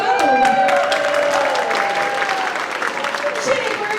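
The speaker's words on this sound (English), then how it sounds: "Bell Monroe, round of applause for them." Applause from a school orchestra concert audience, steady and fairly loud throughout, with a voice and cheering mixed in over the clapping.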